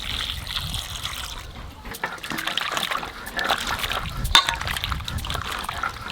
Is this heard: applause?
no